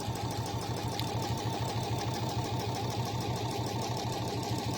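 A sewing machine stitches steadily across a fabric bag in a fast, even rhythmic chatter, quiet and close, running without pause throughout.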